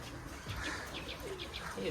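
Giribaj pigeons at a pigeon farm coo softly in a few short repeated calls, faint and somewhat distant, over a hushed, noisy background with low voices nearby.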